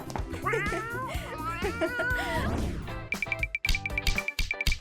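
A cartoon cat mews in a Barbie Dreamhouse episode, its wavering cries mixed in with lively animated voices and music, followed by sharp, choppy sound effects.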